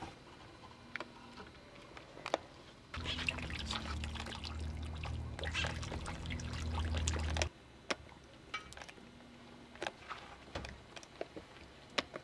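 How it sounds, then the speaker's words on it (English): Clay slip pours from a container into a shallow plaster-lined wooden trough covered with cloth, a steady wet gush for a few seconds between scattered small clicks and drips, close and moderately quiet, with no talking. "The final step in preparing the clay is to pour it into a shallow wooden trough that has been lined with plaster of Paris"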